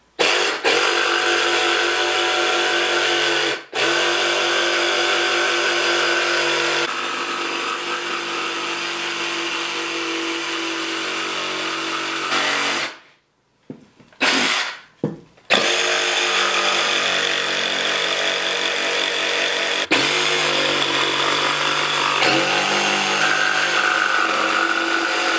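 Cordless jigsaw running on a cheap aftermarket Dewalt-compatible battery, cutting with a loud, steady buzzing whine that stops briefly twice around the middle, then resumes to the end with no talking.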